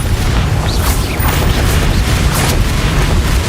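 Bombarda blasting spell in Hogwarts Legacy: a dense, continuous rumbling boom fills the whole stretch, loud and close, with bursts of crackle and debris.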